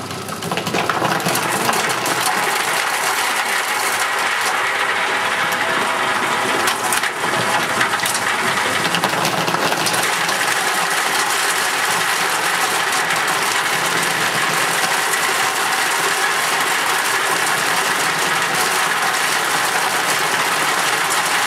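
A motorized nutmeg cracking machine spins while nutmeg is fed into its funnel, giving a loud continuous mechanical roar with dense rattling and crackling of shells throughout.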